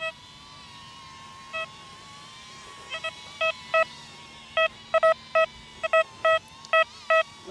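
A XP ICON X metal detector on sand sounds short, steady electronic tones over a low background hum for a 20 euro cent coin, first sparse, then coming as a regular series of beeps.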